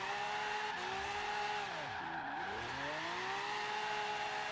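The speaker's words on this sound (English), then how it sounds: "just gonna drift in third gear" A Nissan Silvia drifts in third gear around a car park, its engine rising and falling through sweeping revs while tyres squeal steadily and loudly across the whole stretch, no voices present.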